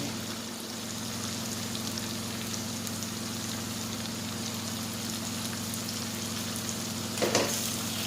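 Fried chicken pieces go into a pan of tomatoes for chicken caldereta, giving a steady, close sizzle that runs unbroken throughout, with a brief clatter near the end.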